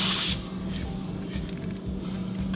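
White lithium grease sprays onto a motorcycle brake caliper in a short, loud hissing burst, then a lower continuous hiss and rubbing continue close by, with no talk.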